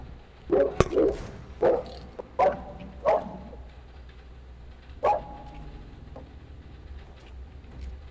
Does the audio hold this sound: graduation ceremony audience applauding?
no